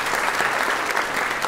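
A theatre audience at a school stage performance bursts into dense, even applause, loud and continuous throughout.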